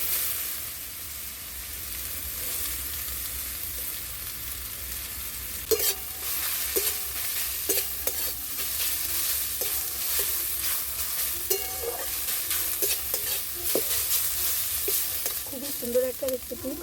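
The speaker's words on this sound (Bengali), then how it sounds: "তেলটা গরম হয়ে গেছে। এবার আমি যে আলুটাকে খুব সুন্দর করে চুড়ে ধুয়ে রেখেছি ওইটাকে আমি তেলের উপরে দিয়ে দিচ্ছি।" Washed potatoes hit hot mustard oil in a wok and sizzle steadily, with a spatula repeatedly scraping and stirring against the pan in irregular clinks, close and without talk.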